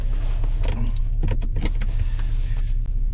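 A Dodge Caravan drives along with a steady low engine and road rumble inside the cabin, with faint clicks and rattles over the top and no talking.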